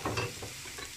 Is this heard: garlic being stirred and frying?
yes